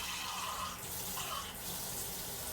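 Water pours steadily into a small bowl while cooking fried rice with sweet and sour chicken, a close, continuous splashing rush lasting a couple of seconds without talk.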